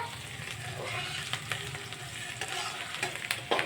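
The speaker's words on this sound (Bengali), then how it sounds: "পেঁয়াজগুলো লাল লাল করে ভেজে নিতে হবে।" Onions frying in a pan until reddish for homemade egg chowmein, a steady close sizzle with intermittent spatula scrapes and stirring clicks, no talking.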